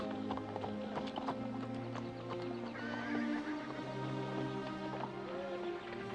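A horse whinnies amid hoofbeats clip-clopping nearby, with a low steady hum beneath; no talking is heard.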